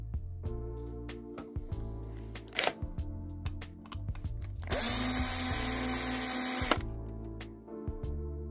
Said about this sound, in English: We have a screw, and to unscrew it we need to take off all this board, this one.